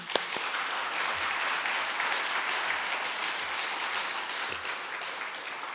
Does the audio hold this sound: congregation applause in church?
yes